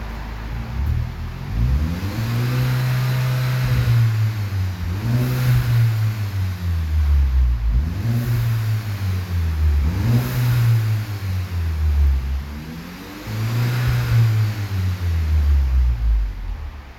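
A Volkswagen GTI fitted with an aftermarket Beluga exhaust revs repeatedly, each deep, loud rise and fall of the engine note following closely on the last across the whole stretch, with no talking.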